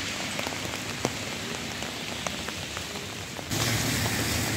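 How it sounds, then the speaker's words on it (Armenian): Heavy rain pours down in a dense, continuous hiss with scattered sharp drop hits, and the downpour grows louder and fuller toward the end. "Ուժեղ անձրևը"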